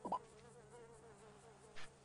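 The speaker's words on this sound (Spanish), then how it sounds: "Las putas moscas, tío. Estamos locos. Hay moscas por todos lados." Flies buzzing in the GTA V video game, a faint continuous insect drone with a thin wavering whine, briefly swelling near the start and again near the end.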